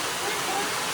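A popular waterfall on Siquijor Island roars in a steady, dense rush of falling water, loud and close, with no break in the wash.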